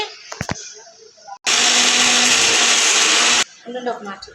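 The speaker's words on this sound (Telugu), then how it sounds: "ఇప్పుడైతే ఉల్లిపాయలు టమాటీలు మిక్సీ పట్టుకోవాలి మనము మెత్తగా" A mixer grinder blends onions and tomatoes into a smooth paste, a loud steady motor whir running for about two seconds, framed by handling clatter and a voice before and after.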